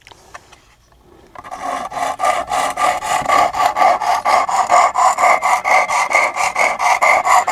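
A knife is sharpened with strokes on a 320 grit abrasive in a clamped guided sharpener, rhythmic rasping scrapes starting after a quiet second and repeating loud and close at a steady fast pace.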